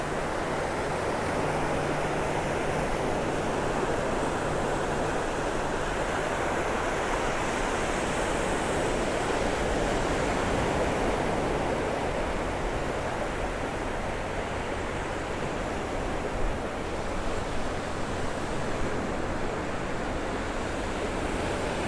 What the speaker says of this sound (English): Beautiful day out here on the beach.